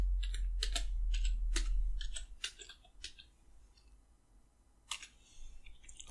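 Fingers type a folder name on a computer keyboard: a quick burst of crisp, close keystrokes over a low hum, then a few scattered key clicks after a pause.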